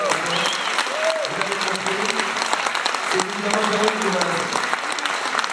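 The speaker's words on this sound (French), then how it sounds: "vous pouvez applaudir" Audience applause at a French awards gala honoring women, steady clapping running throughout while a presenter's voice talks over it.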